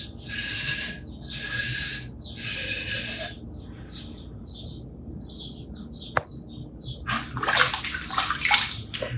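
Water splashes and runs as green glaze is washed off pottery by hand, coming in repeated bursts of rinsing with quieter dripping between, then a louder, busier splash near the end.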